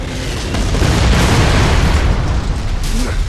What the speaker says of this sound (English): Drop a mortar through the roof.